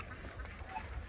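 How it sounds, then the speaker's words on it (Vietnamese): A flock of ducks quacks near a bamboo bridge in Tra Vinh, Vietnam. The calls are soft and overlapping and sound somewhat distant, with a faint background murmur. "nguyên một bầy vịt luôn"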